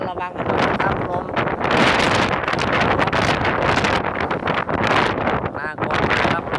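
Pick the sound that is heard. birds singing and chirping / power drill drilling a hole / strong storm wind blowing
strong storm wind blowing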